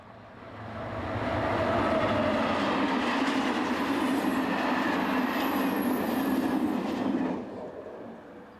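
A French SNCF BB26000 electric locomotive passes near Tours, its train swelling into a loud, steady rolling roar with faint wheel squeal before it fades away.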